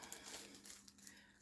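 Plastic packaging crinkles and rustles during unpacking, close and very quiet, with irregular crackling handling noises throughout.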